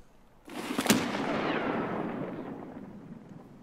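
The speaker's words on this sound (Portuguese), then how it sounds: "Pinguim, esse tiro tá vindo de longe, hein?" A distant gunshot in the video game Escape from Tarkov, a single sudden boom that rolls into a long echoing rumble and slowly fades across open terrain, alone with no talk.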